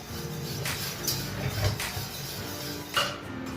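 Orange chicken sauce thickened with a flour-and-water slurry is stirred in a pan, giving soft scraping and occasional metallic clinks of a utensil against the cookware, fairly quiet and close.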